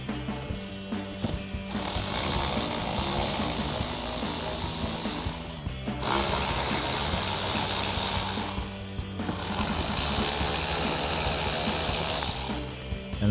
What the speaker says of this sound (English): You can remove those with a T15 Torx socket.